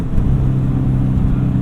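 A 1996 Ford Mustang GT SN95 V8 held at about 5,000 RPM gives a loud, steady, low, grunty engine roar that fills the whole short stretch without any talking.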